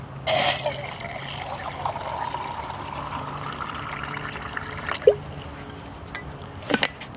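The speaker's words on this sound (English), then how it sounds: "Get some water in there." Water poured into a burning wood stove during a bushcraft fire session, a soft continuous trickle and hiss running for several seconds at moderate level, with a few sharp knocks and clicks near the end.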